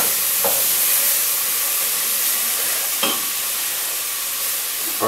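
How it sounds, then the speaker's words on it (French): Chili con carne being stirred in a pot while pork shank melts into the beef and cooking stock, a steady frying hiss with a few soft scraping knocks of the spoon, close and alone. "On va remuer tout ça, histoire de faire fondre le mollet."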